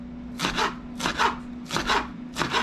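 A serrated knife saws through green onion on a cutting board in close, raspy strokes that come in paired bursts, four times in a steady rhythm, with a faint hum underneath.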